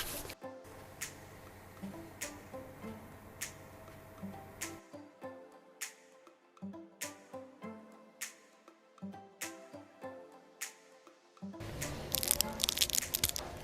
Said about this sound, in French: C'est juste pour faire entendre le croustillant de la pâte feuilletée.